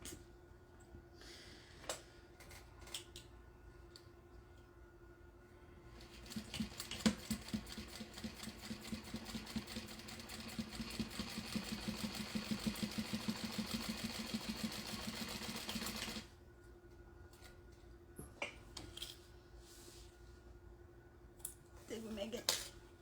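A sewing machine runs steadily for about ten seconds, top stitching a pocket on a fabric wallet. The motor whirs fast and close, with quieter clicks and handling noises before and after.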